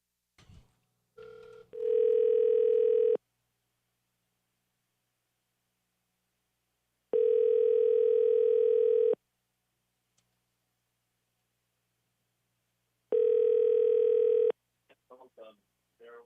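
Telephone tones heard as a radio host places a call to a guest on air, three identical steady electronic beeps, each about a second or two long, separated by silence, with brief clicks at the start and end.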